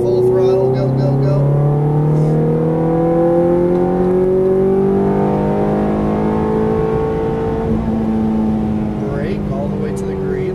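A Ferrari F430 engine climbs under full throttle, a loud steady rising whine with stacked harmonic tones sweeping upward, while a voice talks over it close to the microphone.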